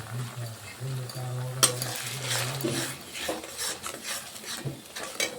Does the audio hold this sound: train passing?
no